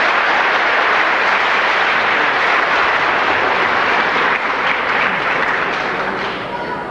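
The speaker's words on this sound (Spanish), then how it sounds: "Vamos a recibir con un fuerte y caluroso aplauso al señor Neftalí Díaz" A crowd at an indoor gathering breaks into strong, warm applause to welcome a speaker, a loud, dense clapping that holds steady and eases slightly near the end.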